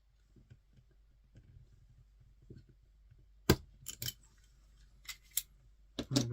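A pen barrel being cut, its back end snipped off, with a few soft handling taps and then several sharp, close cutting snaps in quick succession.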